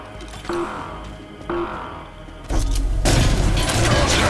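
Grenade explosion in the video game Trepang2, a heavy boom bursting out midway over ongoing gunfire and combat noise, loud and close.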